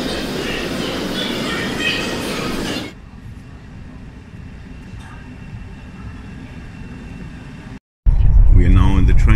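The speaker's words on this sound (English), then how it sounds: "We are now on the train to Daqing." Interior of a moving passenger train bound for Daqing, China: a steady rumbling roar that suddenly drops to a quieter hum, then briefly cuts out before a louder burst of noise.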